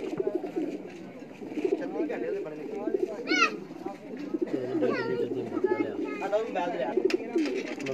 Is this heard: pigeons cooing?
yes